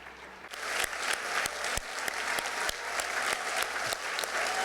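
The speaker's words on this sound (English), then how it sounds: "get you a round of applause" Audience applause at the Venice Biennale Arte 2024 awards ceremony honoring the former president of La Biennale di Venezia, a steady dense wash of many hands clapping with a few sharper nearby claps standing out.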